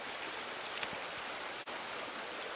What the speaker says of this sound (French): Donc là il y a le ruisseau.